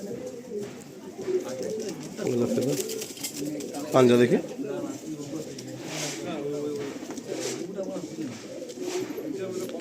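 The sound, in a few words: Kaldom pigeon cooing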